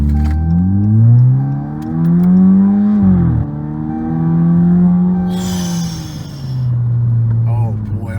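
A 2015 Chrysler 200 with its 2.4L engine accelerates in throttle-controller sport plus mode, the engine note rising steadily in repeated upshift cycles, close and prominent, with brief voices over it.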